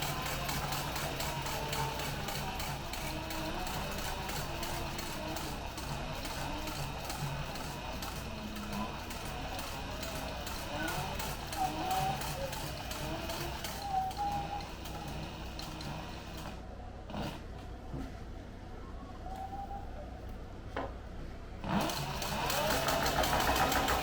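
A sewing machine stitches a handmade notebook, running in a steady rapid mechanical ticking drone up close, with a brief pause near the end, no talk.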